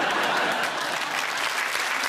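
Steady, dense applause from a theatre audience at a live evening with comedian Bob Monkhouse, a close, continuous wash of clapping with no voices over it.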